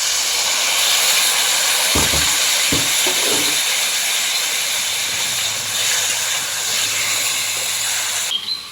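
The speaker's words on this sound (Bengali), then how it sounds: "মশলার সঙ্গে আলুগুলোকে একটু ভালোভাবে ভেজে নিব সামান্য একটু জল দিয়ে দিচ্ছি" Potatoes fry with spices in a pan and keep sizzling after a little water is added. A loud, steady hiss carries a few clattering stirs early on and runs continuously to the end.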